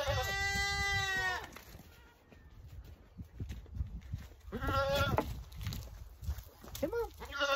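A small goat bleats loudly nearby, one long wavering cry at the start, then two shorter bleats near the end, with shuffling footsteps and scattered handling noises on a farm in between.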